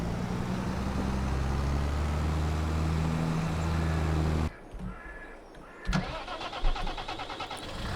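Tractor engine in Farming Simulator 22 running with a steady low drone, then cutting out and cranking back to life with a sharp start before idling on.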